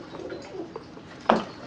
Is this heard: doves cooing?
yes